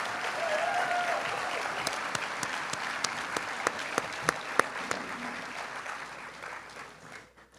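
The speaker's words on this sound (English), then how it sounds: "Let's give Jeff a round of applause." An audience at an annual awards dinner applauds, a dense wash of clapping that holds steady and then thins and fades out over several seconds, with a few sharper individual claps near the end.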